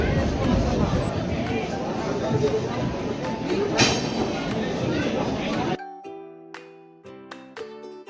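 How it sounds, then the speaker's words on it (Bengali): The Agartala to Guwahati passenger train entering a station platform, a loud broad rumble of the train and station noise for several seconds, then quieter tonal chimes and bells near the end. "আমাদের আগরতলা থেকে গুয়াহাটি যাওয়ার ট্রেনটা দেখছেন, ঢুকছে প্ল্যাটফর্মে।"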